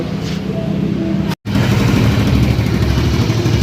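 A motorcycle engine runs loudly and steadily close by, with a brief cut near the start before the engine note resumes and holds at a rough idle.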